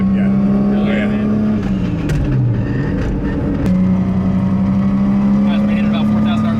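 A 900-hp all-wheel-drive Nissan Skyline GT-R with a 2.8-litre stroker engine and an HKS T51R turbo drones loudly and steadily on a street, dipping briefly in pitch before climbing back, with voices faintly present inside the car.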